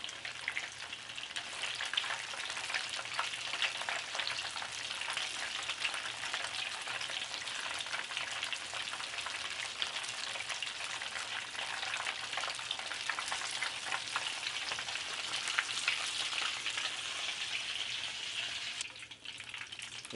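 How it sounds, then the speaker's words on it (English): Chicken balls frying in oil make a continuous, even crackling sizzle that runs unbroken for about twenty seconds, moderately quiet and with no voices. "Let's fry this up for a little less than 2 minutes."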